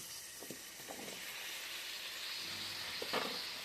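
Small onions and tomato frying in oil in a pan for a chickpea kurma, a soft steady sizzle with a few faint stirring clinks.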